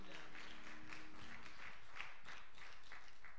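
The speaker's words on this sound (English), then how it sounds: "let's give the Lord a hand clap of praise" A church congregation clapping hands in praise at a Sunday service, rhythmic unison claps at a steady beat, fairly faint and distant, with a brief sustained tone fading early.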